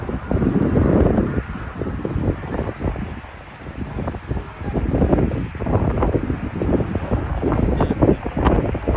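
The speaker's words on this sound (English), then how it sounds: "That's getting real windy out here" Strong gusting wind roars across the microphone outdoors at a car meet in Oklahoma City, rising and falling in loud buffeting waves with a brief lull midway.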